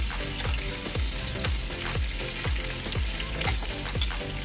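Sliced hotdogs frying in a pan with onion, a steady close sizzle broken by a regular series of soft scraping thumps as the pieces are flipped and stirred, with no voices.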